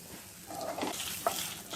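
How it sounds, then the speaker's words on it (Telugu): Dried red and green chili pieces fry in hot oil with a steady, close sizzle, while a spoon stirs them through the pan in a short burst. "ఎండుమిరపకాయ ముక్కలు వేసి వేయించుకోవాలి."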